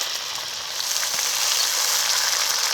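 Tomato puree with ginger, garlic, cumin and dried chilli pastes frying in hot oil, a steady close sizzle that grows slightly louder and more intense, with no talking.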